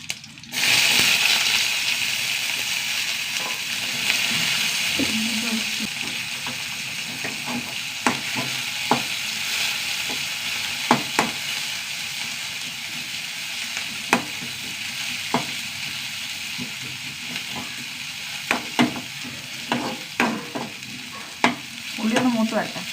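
Shallots and dried red chillies frying in oil, a steady close sizzle broken by frequent sharp clicks and scrapes of stirring, no speech throughout.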